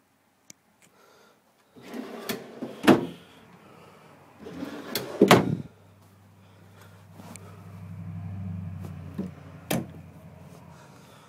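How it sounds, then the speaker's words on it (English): Drawers on full-extension ball-bearing guides in the back bedroom of a 2011 Sandpiper 355 QBQ travel trailer slide open and shut, giving rolling rumbles and sharp knocks that come in several separate bursts. "Drawers, full extension drawer guide,"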